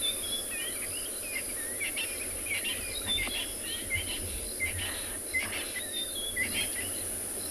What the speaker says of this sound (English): I can hear the frogs are waking up. The birds are doing their last chorus before roosting for the night.